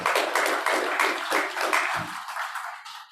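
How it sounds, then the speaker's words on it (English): A round of applause at a producer listening session in a livestock auction yard: dense, steady clapping from a room of people that tapers off toward the end, no talking. "Just give a round of applause again to Stockhorse for making rounds"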